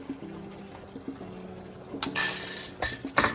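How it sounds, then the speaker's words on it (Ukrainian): Starch mixed with a little water poured into a sour cream batter for buckwheat fritters, with short close splashy bursts of liquid after a few faint clinks. "Далі до крохмалу ми додаємо трошки води, гарненько його перемішуємо і вливаємо у суміш."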